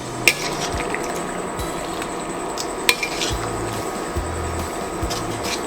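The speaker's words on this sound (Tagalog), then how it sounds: "Lalagay na rin natin ang ating toyo, kalamansi, at ang ating tomato paste. Haluin lang natin." Pork with soy sauce, calamansi and tomato paste is stirred in a pot, giving soft wet stirring under a steady background hiss, with occasional clinks of utensil on metal and no voices.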